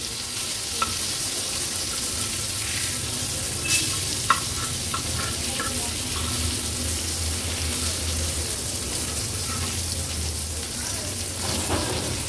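Karli fish pieces frying in oil over a gas flame give a steady, close sizzle throughout, with a few light clinks and scrapes as the pieces are pushed aside in the pan.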